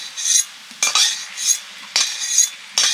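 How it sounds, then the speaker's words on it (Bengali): A metal utensil breaks up boiled potatoes in a pan for a curry, making four or five distinct scraping strokes in an even rhythm, close and fairly loud with brief quiet gaps between them. "এই জন্য আলুগুলো একটু একটু ভেঙে দিচ্ছি"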